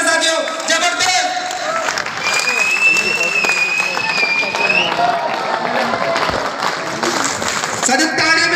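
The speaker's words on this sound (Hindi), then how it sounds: "लोकेश यादव की जबरदस्त तालियों के साथ स्वागत है साथियों" An audience at a direct selling recognition meeting in Jaipur's Nirmala Auditorium applauds steadily and loudly, with cheering voices and music over the continuous clapping.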